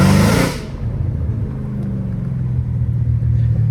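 Straight-piped Dodge Hellcat Redeye V8 heard from inside while driving, a loud burst of engine roar at the start settling into a steady, deep low rumble that continues throughout with no talking.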